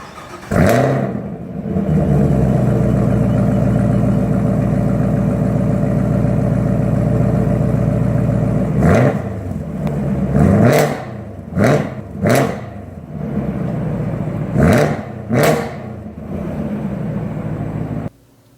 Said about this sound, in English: And here's an exhaust clip of that engine.